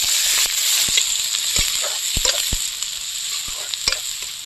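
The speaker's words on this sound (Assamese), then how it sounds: "এতিয়া শুকান জলকীয়া আৰু গোটা জিৰা তাৰপাছত দি ল'ম মই সৰু সৰুকৈ কাটি থোৱা মই পিঁয়াজ" Dried chilies, whole cumin and finely chopped onion frying in hot oil in a home kitchen, a steady close sizzle with scattered sharp pops and crackles throughout.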